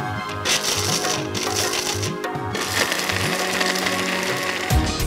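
Kitchen grinder roughly grinding cashews, walnuts and almonds, with a loud rattling whir of hard nut pieces clattering against the blades, running in uneven bursts with a short pause partway through.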